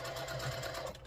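A sewing machine runs a quarter-inch seam through quilt patches, a steady close mechanical hum and rapid needle chatter lasting about a second.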